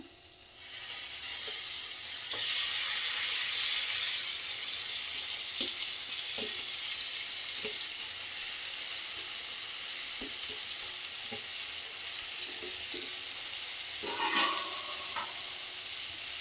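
Crushed garlic and tomatoes fry in a pan with a steady, broad sizzle, with a louder surge of hiss as they go in and occasional scraping stirs and light clinks over it.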